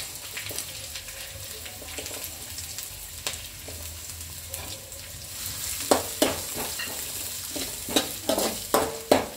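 Sliced capsicum hits a hot pan with ginger-garlic paste for homemade Schezwan rice, giving a steady close sizzle that grows louder toward the end, broken by sharp scraping stir strokes.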